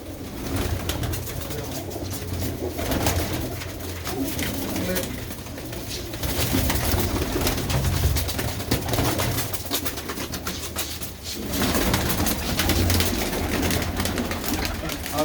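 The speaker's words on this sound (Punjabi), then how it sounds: "ਕੁਝ ਇਹਨਾਂ ਦੀਆਂ ਖਾਸੀਅਤਾਂ ਕਬੂਤਰਾਂ ਦੀਆਂ ਵਿੱਚ" Pigeons coo continuously and fairly loudly at close range, a dense steady layer of murmuring calls, with people talking faintly in the background.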